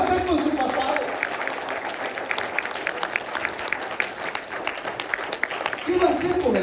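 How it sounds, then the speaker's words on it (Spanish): A church congregation claps in steady, fairly loud applause during a sermon, with a voice speaking at the beginning and again near the end. "Denle un aplauso fuerte al Señor"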